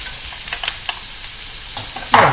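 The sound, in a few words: onions and mushrooms frying in oil in a pan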